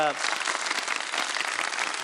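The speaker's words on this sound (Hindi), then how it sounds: "तो मेरा ख्याल है हम लोग तालियां बजा दें एक दफा।" A studio audience on a Ramadan TV show applauding, dense crackly clapping that starts right after a voice and carries on steadily.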